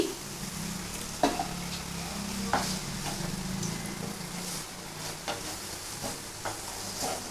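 Milk peda mixture cooked with ghee in a pan, stirred by hand: soft scraping strokes and occasional knocks over a low continuous sizzle, close and fairly quiet.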